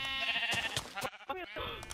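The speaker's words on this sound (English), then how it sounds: "Look, there's a sheep, and there's another sheep" Sheep in the Minecraft video game bleat in short, wavering cries across two seconds, a voice briefly talking over them.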